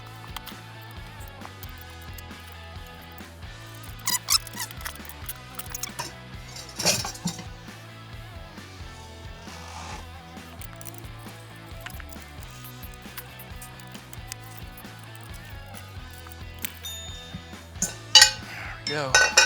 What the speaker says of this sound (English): Got these Motion Pro tire spoons.